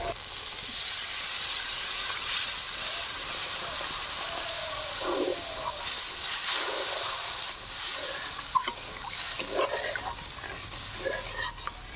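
Sizzling and hissing as water goes into hot fried spice masala in a pan for rohu fish curry, a steady close broadband hiss running throughout with brief bursts of crackle.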